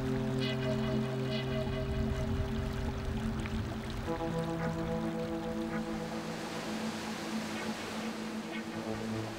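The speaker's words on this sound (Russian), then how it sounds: "В руслах рек, истощенных зимней жаждой, быстро появляется долгожданная вода." Spring meltwater runs along a river bed, a continuous rushing flow with a steady wash. Tonal sustained music sounds over it throughout.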